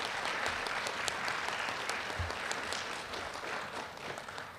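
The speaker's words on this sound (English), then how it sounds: "let's give all of our students a nice round of applause this morning" Audience applause for students at a high school recognition event, a steady wash of many hands clapping throughout, moderately loud and unbroken with no voices over it.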